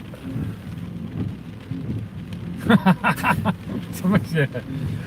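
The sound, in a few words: rain falling on a car park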